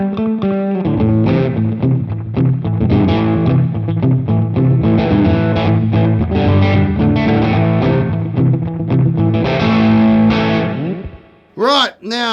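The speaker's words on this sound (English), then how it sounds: "I don't like a lot of reverb when I'm using a slapback because it tends to sort of just muddy everything up" Electric guitar through a Sonicake Twiggy Blues multi-effects unit with slapback delay, playing a busy, slightly driven rockabilly-style line with clear repeating echoes, loud and close, ending on a held note before a short voice fragment.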